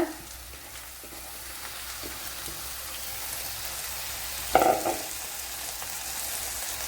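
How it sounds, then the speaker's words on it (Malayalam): Okra dropped into a pan of frying onions gives a steady close sizzle, with a brief louder burst of hissing as the pieces land in the hot oil partway through; no voices. "സവാള ഒരുവിധം വെന്തിട്ടുണ്ട് അതിലേക്ക് ഈ വെണ്ടയ്ക്ക ഇട്ട് കൊടുക്കുക"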